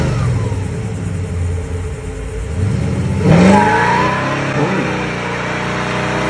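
A Chevy donk car with a small-block V8 rumbles and revs loudly nearby, its deep engine note surging midway through and then settling back into a throaty idle.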